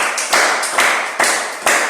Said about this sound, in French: Applaudissez encore pour vous.